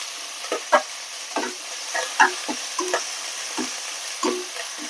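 Three garlic cloves frying in oil alongside dried red chilies and drumstick in a pan for sambar, a crackling sizzle broken by repeated scraping and stirring clatters of a spoon against the pan.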